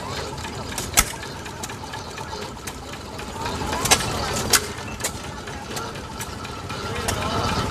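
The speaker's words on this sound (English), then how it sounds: "some of these older ones are hit and miss engines" An old hit-and-miss stationary engine running at a threshing show, with irregular sharp firing pops spaced among steadier mechanical chugging, fairly close and loud against outdoor background noise.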